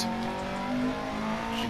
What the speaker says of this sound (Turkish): Evet, ara gazı veriyoruz.